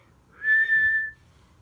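A woman reading Whistle for Willie aloud gives a single short whistle, clear and close, imitating Peter's whistle in the story.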